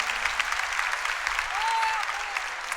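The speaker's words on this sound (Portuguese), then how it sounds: "Vamos aplaudir quem está acompanhando o nosso acampamento de casa." A congregation at a Sunday church camp mass claps together in a sustained burst, with dense, even applause that fills the room and a brief thin whistling tone rising partway through.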